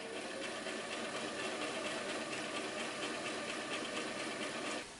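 A sewing machine hems a skirt, running steadily and continuously at close range for the whole stretch with no talk, stopping just at the end.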